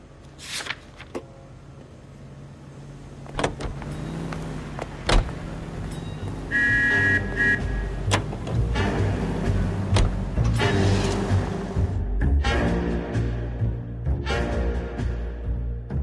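Car sounds from the L.A. Noire video game: a vehicle engine hums steadily and grows louder midway, with door-like thumps and clicks early on and a brief tonal chime in the middle.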